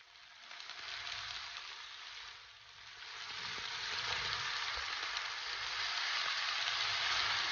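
Beef pasta with soy sauce frying and being stirred in a pan, a steady close sizzle that swells and stays loud, with faint scraping of stirring and no talk.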